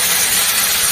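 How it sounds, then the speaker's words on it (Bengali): Hot water poured into a pan of potatoes frying in oil for a jhinge alu posto dish, a brief, steady and loud hiss of steam and sizzle with no pauses. "একটু জল দিই, অল্প একটু জল দিই, এই যে গরম জল"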